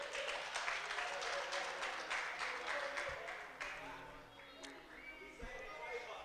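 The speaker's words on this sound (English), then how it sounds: "Let's clap for them as they come." An audience at a Hult Prize event claps as a team walks onto the stage, brisk clapping that thins out midway and gives way to murmured voices and scattered knocks.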